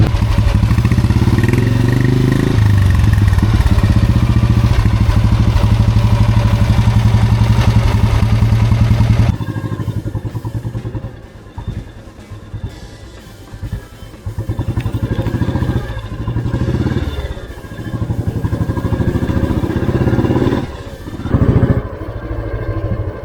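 A 1980s Royal Enfield Bullet 350 runs loudly at close range with a heavy thumping beat, then drops to a lower rumble with shifting engine pitch and occasional knocks during a short ride on winding village roads.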